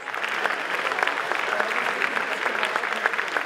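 Sustained applause from a festival concert audience, dense, steady clapping from a large crowd filling the whole stretch, loud and continuous without a break.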